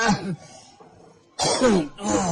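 A short cough near the start, then quiet, followed by someone speaking close by.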